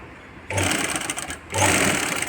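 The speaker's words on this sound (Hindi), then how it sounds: "सबसे पहले हम आपको 11 नंबर की सिलाई दिखाएंगे कि 11 नंबर पे कैसे सिलाई होती है।" Hosiery fabric is run through a sewing machine fitted with a size 11 needle, producing two short, close bursts of fast, buzzing stitching separated by a brief lull.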